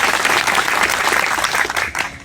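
A crowd at a public gathering bursts into loud, dense applause, a continuous wash of clapping that stays strong throughout without any speaking over it.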